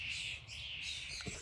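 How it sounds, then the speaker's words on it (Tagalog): Several small birds chirp and tweet steadily in a home vegetable garden, a fairly quiet, continuous chorus with one slightly closer call near the end. "Ang daming ibon."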